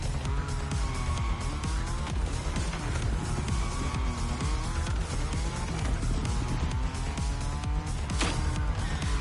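Nissan 350Z Roadster drift car in The Crew Motorfest, its engine revving steadily with tire squeal and skidding running continuously and loudly throughout, close and dense without pause.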